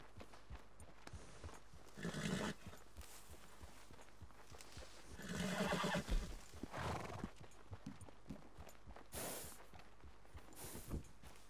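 Hooves clip-clop in scattered steps with a couple of louder bursts, including a neigh and snort, from a horse being ridden in the snowy winter setting of the video game Red Dead Online.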